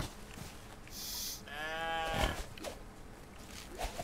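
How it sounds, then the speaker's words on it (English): A cow moos in the Outlaws of the Old West video game, one drawn-out harmonic low call rising into a bellow, fairly close, with faint game ambience and a few soft clicks around it. "You're Sally the cow"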